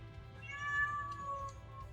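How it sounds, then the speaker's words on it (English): A house cat lets out a single drawn-out meow, fairly faint and close, over a low background hum from a Final Fantasy VI game session. "Oh, good, a noisy cat."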